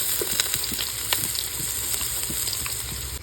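Onions sizzle in a pan for beef curry, a constant soft frying crackle with scattered light clicks and scrapes as they are stirred, close and without voices.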